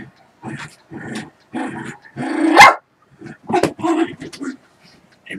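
A dog wanting to play ball, barking and growling in short, close bursts with brief pauses between them, loudest in the middle.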